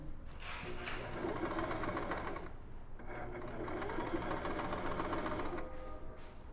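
A sewing machine runs a straight stitch at 2.5 length, whirring close and steadily with a rapid mechanical patter, easing briefly near the middle before it carries on.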